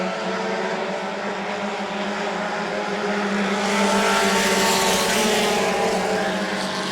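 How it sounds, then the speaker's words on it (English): Bomber class race cars at New Smyrna circle the track and blip their throttles near the start-finish line, a loud continuous engine roar that swells as they pass close by. "You see these cars start to burp the throttle as they approach the start-finish line"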